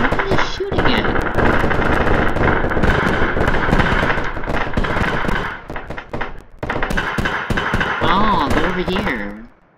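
Rapid gunfire in the video game Manta's Warbox: dense, loud bursts of shots and impacts crowding together almost nonstop, with a brief lull partway through and a few warbling tones near the end.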